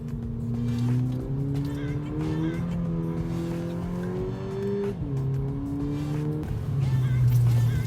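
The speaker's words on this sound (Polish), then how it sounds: "Ale fajne jest to auto, bo fajnie rwie." A VW Polo accelerating hard, its engine note climbing steadily and dropping briefly at gear changes before rising again, loud and close throughout for about eight seconds.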